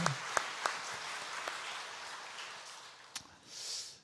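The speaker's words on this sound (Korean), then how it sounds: "네, 박수 한번 합시다" A church congregation applauds during an early-morning Monday prayer service, a fairly quiet, dense wash of clapping with a few sharper individual claps, lasting about four seconds before thinning out.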